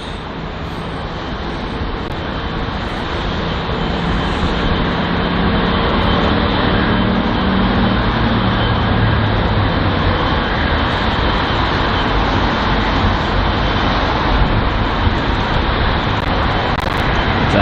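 A jet airliner roars at London Heathrow airport, a loud continuous broadband engine rumble that builds slightly over the first seconds and then holds steady, heard alone at a moderate distance.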